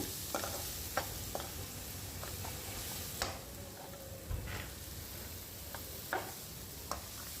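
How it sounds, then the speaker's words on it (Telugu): Bitter gourd pieces fry with onions in a pan, a continuous close sizzle broken by sharp intermittent taps and scrapes of a stirring spoon. "ఉల్లిపాయలు అయితే వేగిపోయాయండి ఇప్పుడు మనం కాకరకాయలు అయితే వేసేసుకుందాము"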